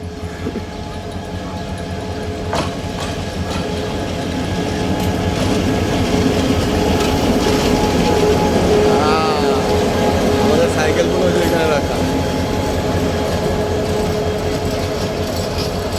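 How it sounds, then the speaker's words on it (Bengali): A train rumbles in slowly with a steady low roar and faint metallic squeals, building gradually and holding loud while people talk nearby. "কিন্তু ট্রেন এটা যে স্লোলি আসতেছে"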